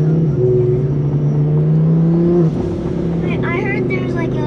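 A Lamborghini engine drones steadily, its pitch rising and falling as it revs and accelerates, loud and close inside the car with people talking over it and a brief whirring shift midway.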